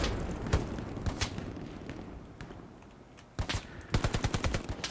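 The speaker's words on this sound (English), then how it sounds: "I'm getting shot again." Gunfire in the Hell Let Loose World War II shooter, scattered nearby shots early on, then bursts of rapid machine-gun fire in the final second and a half.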